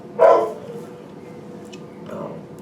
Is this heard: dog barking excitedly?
yes